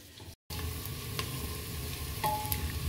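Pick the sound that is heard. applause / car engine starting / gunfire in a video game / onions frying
onions frying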